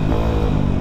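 Modified Yamaha Vixion motorcycle built as a supermoto, its engine running loud and close with a deep, steady throbbing growl that swells slightly as it revs, with no talk over it.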